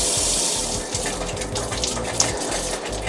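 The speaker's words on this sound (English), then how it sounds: "Now we start by emptying our water tank by turning on the tap." Water runs steadily from a boat's tap as the onboard water tank is drained for winter, a continuous close gushing flow with a low pump-like hum underneath.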